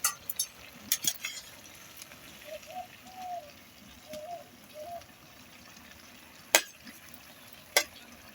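Fish frying in a pan in a village kitchen: a steady, low sizzle with sharp oil spatters and crackles popping out at irregular moments, close and moderately quiet.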